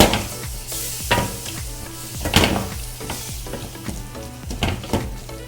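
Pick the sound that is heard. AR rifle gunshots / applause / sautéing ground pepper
sautéing ground pepper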